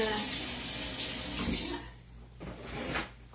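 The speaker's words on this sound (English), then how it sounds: "you will want to strain the water out" Water from a pot of celeriac is poured through a strainer into a sink, a steady rushing gush that tapers into lighter trickles and splashes.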